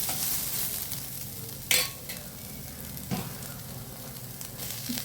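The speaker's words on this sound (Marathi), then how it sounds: "अशा प्रकारे आपले कांदे फ्राय झालेले आहेत" Onions frying in a pan, a recipe for stuffed bitter gourd, give a steady soft sizzle with occasional sharper scrape and stir sounds. No one speaks.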